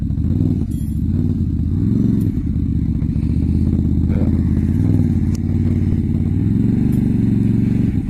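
A Can-Am Maverick XMR side-by-side with its sway bar removed drives over bumps, its engine droning steadily and loud throughout, with faint rattles and clatter from the chassis over the rough ground.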